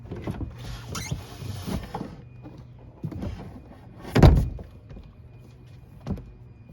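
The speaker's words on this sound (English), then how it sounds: "I'm just going to lift the bucket out." A plastic storage bucket is lifted out of a Sea-Doo 325, giving a series of scraping, creaking plastic rubs and knocks, with one louder thump midway, all close and without talk.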